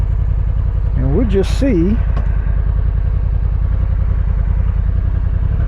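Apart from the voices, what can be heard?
Honda NT1100 2025 motorcycle engine running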